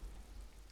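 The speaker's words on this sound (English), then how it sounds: "It's raining." Rain in the video game Disco Elysium makes a soft, steady hiss with a low rumble underneath, faint and continuous, with no talk.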